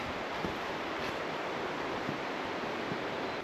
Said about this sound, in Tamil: தண்ணி பயங்கரமாக கொதிக்குது.